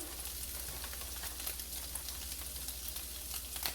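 Browned sausage fries in a pan as flour is sprinkled over it, giving a soft, continuous sizzling hiss with faint crackles and no talking.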